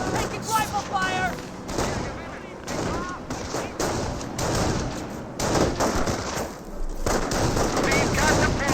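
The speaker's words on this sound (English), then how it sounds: "Taking rifle fire!" Rifle and machine gun fire in the World War II strategy game Company of Heroes, repeated crackling bursts of gunfire with battle noise, while voices shout over the shooting.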